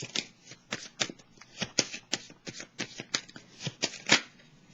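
Tarot cards are shuffled and drawn by hand, heard close and quiet as a quick series of about fifteen crisp, papery flicks and snaps in an uneven rhythm, with no talking.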